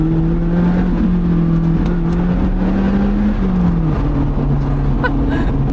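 Car engine on a winding mountain pass in Switzerland, droning loud and close from inside as revs dip under braking and then climb again while accelerating, steady road rumble beneath.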